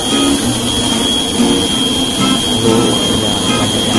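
A loud, steady jet engine roar with a constant high whine fills the scene while passengers board a Batik Air plane, droning continuously without pause.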